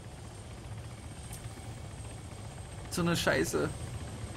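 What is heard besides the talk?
helicopter in the video game Arma 3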